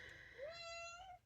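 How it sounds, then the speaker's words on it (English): A single drawn-out cat meow indoors, close and clear, rising then holding steady before trailing off, faint overall with no one speaking. "which is why the meows have gotten louder"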